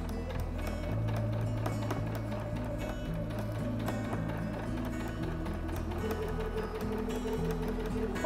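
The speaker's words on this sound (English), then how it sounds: "When you get to the end of what you're sewing, don't sew off the edge of the fabric." Sewing machine running steadily through fabric while finishing a seam, a continuous close motor hum with fast needle rhythm throughout, no talk.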